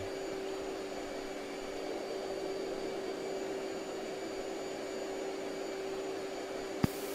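A jet aircraft engine in a flight simulator game roars as a steady, broadband whine with a faint high tone, holding loud and constant throughout, with a brief click near the end.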